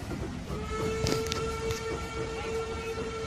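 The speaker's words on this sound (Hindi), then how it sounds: "हम आपको दिखाना चाहते थे पुराने ज़माने के रेल इंजन कैसे चलते थे" An old steam locomotive runs with a steady mechanical rumble, a sustained whistle-like tone and a brief hissing burst near the middle.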